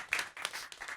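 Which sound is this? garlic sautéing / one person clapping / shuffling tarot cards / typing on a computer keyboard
one person clapping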